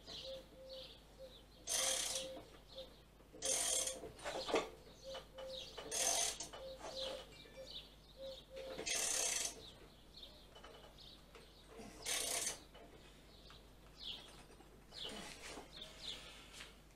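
A wrench ratchets tight the blade nut on a lawnmower while the blade is held with a screwdriver, giving repeated clicking bursts of pawl and metal noise at a close, quiet level with short pauses between.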